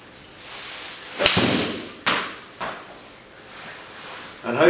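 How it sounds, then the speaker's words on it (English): A golf club strikes a golf ball in a single sharp close crack, followed by a couple of softer thuds and a voice speaking near the end. "then we're going to hit the golf shot"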